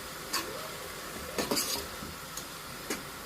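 Chow mein stir-fries in a pan with a salty stock-cube sauce, giving a soft, steady sizzle. A handful of sharp utensil clinks and scrapes stand out near the start, middle and end.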